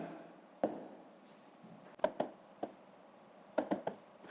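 Numbers written by hand during a sixth-grade maths exercise, heard as quiet, scattered pen taps and short scratches in irregular clusters against a near-silent background.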